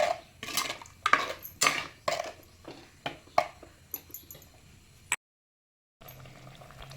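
A spoon scrapes and knocks around a clay pot of brinjal masala gravy in repeated rhythmic strokes, with soft wet squelches, then a brief cut to silence before faint sizzling.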